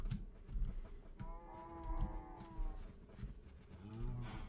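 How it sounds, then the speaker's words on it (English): Several low cow moos from the Minecraft video game, drawn-out calls repeating over a few seconds amid soft thumps, fairly quiet and alone without talk. "Come on, cows, over this way."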